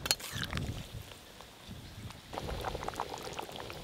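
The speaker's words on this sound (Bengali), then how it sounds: "গুনগুন করে ফুটছে দেখুন" A pot of chicken curry bubbles at a low simmer, soft gurgling pops and burbles rising and falling up close, with no talking.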